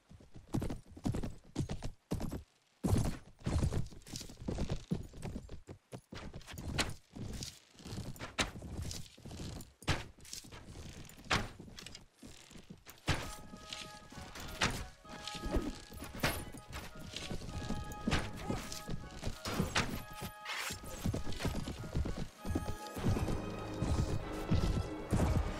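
Horse hooves gallop through a medieval battle in Mount and Blade Warband, a dense, loud stream of clip-clop beats mixed with crashes, clashes and impacts, continuing throughout with a busy battlefield din behind.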